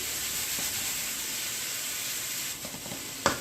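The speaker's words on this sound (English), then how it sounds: "That should give it a little more moisture while it's frying." Steady hissing sizzle of celery frying in a pan, with a few soft clinks and stirring scrapes near the end.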